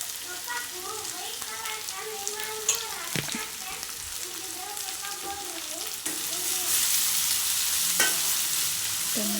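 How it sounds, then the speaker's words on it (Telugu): Tomatoes are stirred into food frying in a pan for vegetable rice, with a steady nearby sizzle and repeated scraping stirs, and the frying grows louder and brighter in the last few seconds; no voices are heard. "టొమాటోలు వేసి కలుపుకోవాలి."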